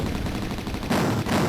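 Rapid cannon fire in the Amiga 1200 shoot 'em up game Banshee, a dense, loud burst of overlapping crackling shots with no pause.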